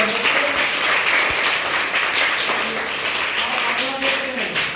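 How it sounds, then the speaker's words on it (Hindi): A school class in India applauds together, a dense wash of hand clapping from many children filling the room for several seconds and tapering slightly near the end, with a voice speaking over it. "तो एक बार ताली बजा दीजिए।"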